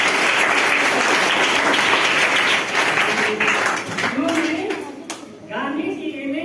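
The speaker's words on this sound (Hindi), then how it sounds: "वैसे ये बहुत अच्छे ताली बजाइए।" Audience of students applauding at a Gandhi discussion gathering in Uttar Pradesh, a dense continuous clapping that holds steady, then thins and dips near the end before picking back up, with a voice briefly audible underneath.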